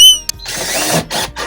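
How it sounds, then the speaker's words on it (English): A cordless power drill drives screws through metal plates into a garden fence, with a short whine, a click, then a long loud whirring run followed by two shorter bursts, close to the microphone. "Now I need to screw those plates to the fence."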